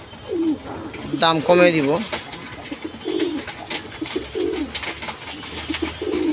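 Red-patti and silver pigeons cooing nearby in repeated soft throaty phrases, with someone speaking over part of the calls.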